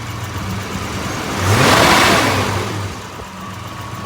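A 1965 Ford Ranchero engine idles, then is revved up once, the roar swelling to a peak and easing back toward idle, close and alone without talk.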